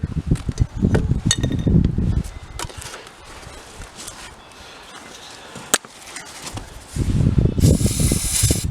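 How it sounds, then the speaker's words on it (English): Hissing bursts of starter fluid sprayed into the carburetor of a Case Ingersoll garden tractor with an Onan B48M twin-cylinder engine that cranks but won't start, mixed with mechanical clatter and low rumbling, with quieter handling noise between louder bursts. "just spray some down the carburetor"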